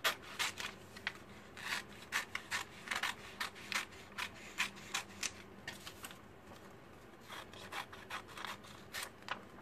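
Scissors cut an image out of a magazine page in a quick series of close, crisp snips and paper rustles, quiet and alone, with short pauses between bursts.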